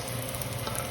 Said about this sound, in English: we're gonna start to saute our garlic and onions